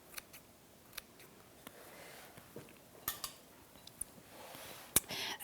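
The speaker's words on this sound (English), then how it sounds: "Again, I love my scissor." Scissors snipping in a home kitchen while making lasagna with meat sauce, quiet scattered clicks and cuts with light clatter of utensils, no talking.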